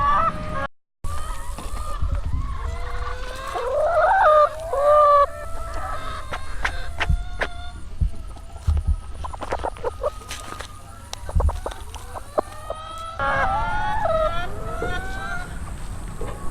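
Chickens cluck and squawk close by in an outdoor yard, with repeated calls and a few honking, goose-like cries over a steady background rustle over about sixteen seconds.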